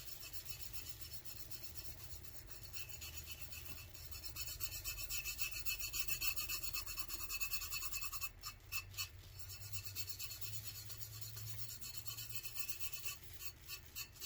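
Steady close rubbing and rasping as glitter is burnished into a cup, a continuous dry scrubbing texture that swells slightly midway, quiet and alone with no talk.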